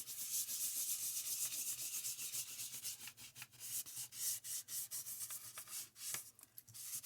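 A product from Walmart is rubbed by hand into a notebook cover to give it a leather look. The soft, close rubbing goes on continuously in quick uneven strokes, quietly, with no voices.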